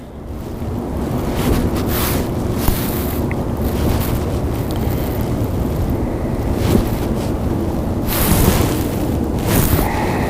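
Strong wind blows over open water around a stopped fishing boat, a loud, steady roar with gusts buffeting the microphone throughout and no speech.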